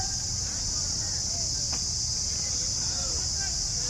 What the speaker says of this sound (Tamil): அதெல்லாம் வந்து வண்டுகளுடைய ரீங்காரம் தான்